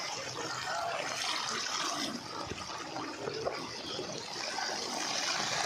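Rainwater flowing across a flooded village road during heavy monsoon rain, a steady broadband rush and wash of water that holds at an even level throughout, with no voices.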